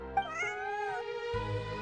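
A cat named Bonnie in the video game Genshin Impact meowing, a couple of clear, close, tonal meows with rising and falling pitch, heard alone without talk.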